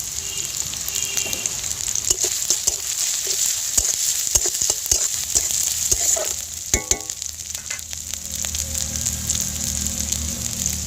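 Ginger garlic paste and chopped green chili frying in hot oil, a dense continuous sizzle and crackle with scattered clicks of a stirring spatula, close and steady throughout.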